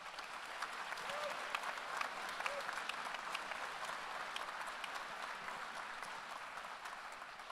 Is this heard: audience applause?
yes